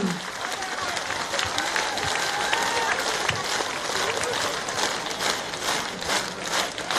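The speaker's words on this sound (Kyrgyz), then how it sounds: "Чатырата кол жаап коюңуздарчы." Crowd applause at a 2017 Kyrgyz election rally for Babanov in Kara-Kol: steady, dense clapping from a large outdoor crowd, sustained throughout with a voice speaking over it.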